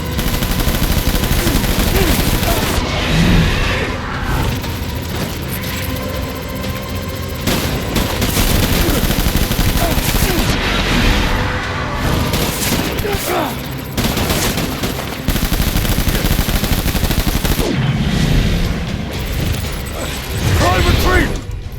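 Sustained gunfire in the video game Death Stranding, with dense bursts of rapid automatic shots and occasional heavier booms over a busy battle background, loud and near, with voices shouting over it at times.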